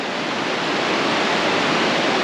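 Rushing whitewater on the Middle Fork Salmon River, a loud, close, unbroken roar of churning water with no voices.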